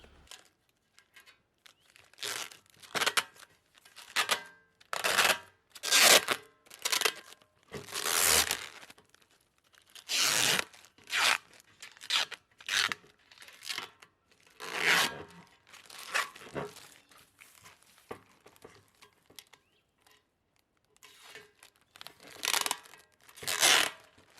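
Plastic wrapping being torn and stripped off the pieces of a Vego Garden raised garden bed, heard as repeated loud ripping and crinkling bursts at close range, separated by short pauses.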